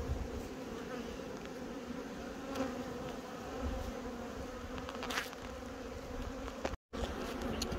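Honey bees buzz around an open hive on Dartmoor, a dense, steady hum from many bees close by with a few louder passes, and no talking.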